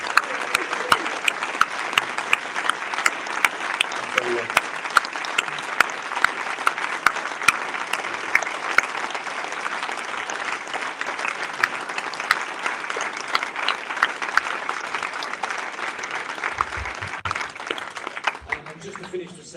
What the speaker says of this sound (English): To both Davids, I think a round of applause and thank you for your time tonight.